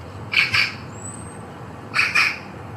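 Magpies give two paired bursts of harsh, raspy squawking calls, each pair of short rough notes close together with a quiet gap between, loud and near, set against a low steady background hum.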